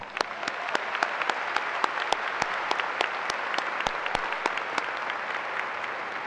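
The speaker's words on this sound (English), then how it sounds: "let's have another round of applause" Sustained applause from a large crowd at a graduation ceremony, steady and dense clapping with sharp individual claps standing out throughout.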